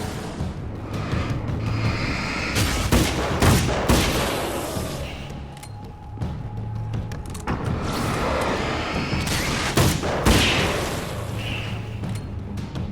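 Weapon gunfire in the video game Alan Wake's American Nightmare: repeated loud, sharp shots fired in quick clusters across the whole stretch, with brief pauses between volleys.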